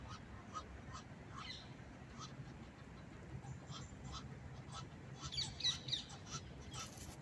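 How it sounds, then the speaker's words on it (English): Gulls and waterfowl call in short squawks and honks at a park lake, scattered bursts of moderately near calling over a steady outdoor hum, loudest toward the end. "And there are so many seagulls here as well."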